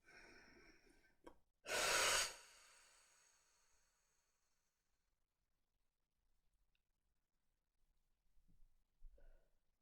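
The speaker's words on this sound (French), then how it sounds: "Vous allez prendre une grande inspiration et vous allez souffler fort." One deep breath during a guided relaxation session: a brief intake, then a loud, forceful exhale of about half a second, followed by near silence with faint, soft breathing and small rustles toward the end.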